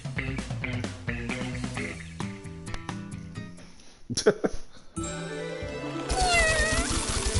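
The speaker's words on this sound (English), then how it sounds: "I think I hear your mother mewing." A cat meows several times inside the Skullgirls fighting game, with drawn-out, wavering cries rising near the end over a busy, loud backing of game music and effects.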